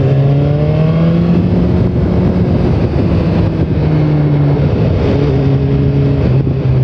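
A 2015 BMW S1000R naked motorcycle engine revs hard while riding, a loud, close, continuous howl with rising and falling pitch through gear changes, running on Pirelli Diablo Rosso tires.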